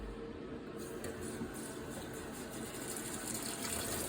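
Tap water runs steadily and evenly while a doll's curly hair is rinsed of deep conditioner, a continuous close hiss and splash with no talking.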